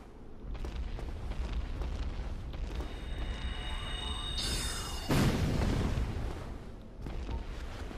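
Bombs thrown by an enemy explode in Dark Souls Remastered, heard as loud, dense booming blasts with a heavier burst near the end and a constant rumbling game backdrop.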